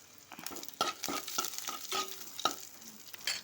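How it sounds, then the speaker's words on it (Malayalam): Cut red chillies are stirred in a frying pan with a spoon, giving repeated scraping strokes and clinks in an irregular rhythm over a soft sizzle, close and fairly quiet, with no talking. "ഒന്നും കൂടി മിക്സാക്കാം."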